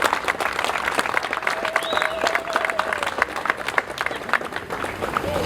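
A crowd applauding the High Commissioner at a South African Freedom Day 2019 event, dense steady clapping that fills the room at moderate loudness, with a faint tone and some murmuring underneath.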